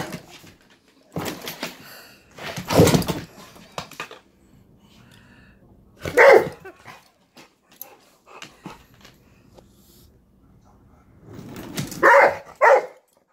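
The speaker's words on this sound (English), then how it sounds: "You're barking at the chair." Dog barking at a chair indoors: a few loud, scattered barks and huffs with panting and quiet stretches between them, with no human speech.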